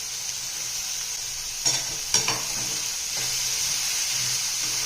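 Capsicum is stir-fried into a roasted spice paste in oil, giving a loud, close, continuous sizzle with a few sharp clatters of a ladle against the pan and no one talking.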